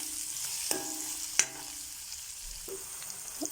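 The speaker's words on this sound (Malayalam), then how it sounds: "വലിയുള്ളി അരിഞ്ഞത് ഇട്ട് കൊടുക്കാം. നന്നായി ഇളക്കി കൊടുക്കാം." Chopped onions fry in a pan for a sardine curry, giving a soft steady sizzle broken by a few sharp scrapes and taps of a stirring spoon, close up with no talking.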